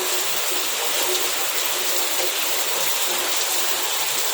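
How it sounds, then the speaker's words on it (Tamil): Heavy rain pours down steadily, a dense, loud, unbroken roar of falling water that holds evenly throughout with no talking. "இப்போ தான் ஸ்டார்டிங் மழை எப்படி பெய்யுது பாருங்கள்"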